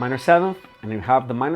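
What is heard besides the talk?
No distinct noise like a dog, phone or traffic.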